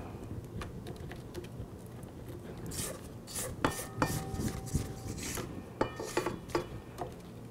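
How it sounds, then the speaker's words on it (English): Spatula scraping down a mixing bowl of trifle batter ingredients, a series of soft scrapes and light taps against the bowl, close and fairly quiet, with no talking. "I think I'll scrape it down, make sure we have everything."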